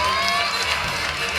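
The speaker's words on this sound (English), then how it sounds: "And the crowd are all with it." A crowd cheers loudly and continuously at the men's and women's lead finals of the IFSC Climbing World Cup in Briançon, 2015, a dense wash of shouts and whoops over background music, with commentators talking on top.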